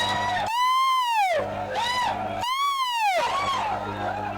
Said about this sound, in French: Nous allons pousser des cris de joie.